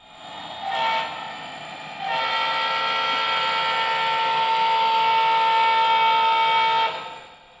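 A Katy Railroad local freight train arrives at the 14th Street crossing on a warm afternoon, sounding a loud sustained horn with a short blast first, then a long held chord, close by.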